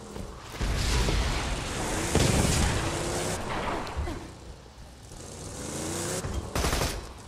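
Gunfire from the video game Borderlands 2 arrives as dense bursts of rapid shots and booming impacts, loud and sustained, swelling and easing in waves.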